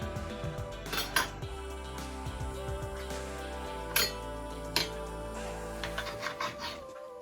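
Knife and fork scraping and clinking as excess fat is trimmed from oxtail for Jamaican stewed oxtail, a steady run of close metallic taps and scrapes with a few sharper clinks.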